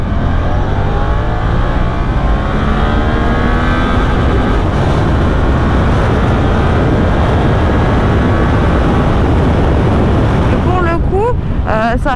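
Suzuki GSX-8S motorcycle pulling hard in second gear along a straight road, a loud, rising engine note climbing steadily under heavy wind rush, with a quick shift near the end.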